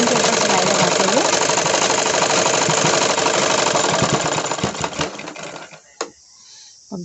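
An electric sewing machine stitching along the margin of a woolen kurti, a loud, steady, close mechanical whirr that runs for several seconds, then stutters and stops, leaving a few brief clicks and handling noises.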